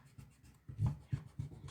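An eraser rubs across a pencil drawing of a hand on paper, making quick back-and-forth scrubbing strokes, close and soft, with no talking.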